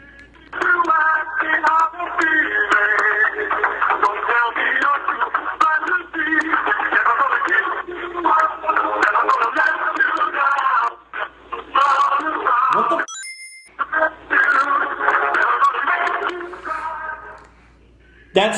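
A song plays through a phone receiver, sounding thin and band-limited like a telephone line, with sung vocals over music that runs continuously, breaks off for a moment, then resumes.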